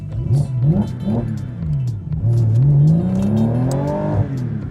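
A Porsche 911 GT3 RS sports car with a sports exhaust revs hard nearby, its engine note rising and falling through several quick blips before a long sweeping climb, loud and raspy, with no talking.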